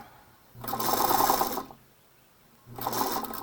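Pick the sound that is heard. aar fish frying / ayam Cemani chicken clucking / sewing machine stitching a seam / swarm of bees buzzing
sewing machine stitching a seam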